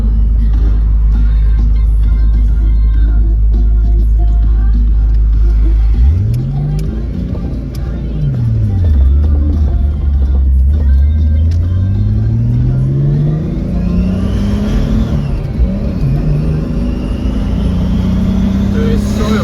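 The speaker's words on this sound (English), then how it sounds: "Of course it would be, it's a fat turbo. The anti-lag will go crazy." Turbocharged Nissan S13 engine with a large turbo and anti-lag, holding a loud steady drone before several sweeping revs rise and fall with crackling pops, close by, with some voices in the background.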